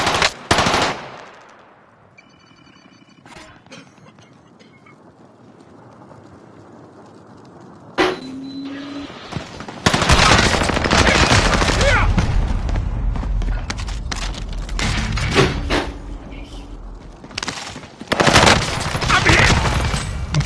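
Video game gunfire from Warzone: bursts of automatic weapon fire and rapid shots crackle loudly in clusters, separated by quieter stretches of muffled ambience.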